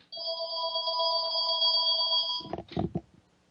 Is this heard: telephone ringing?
yes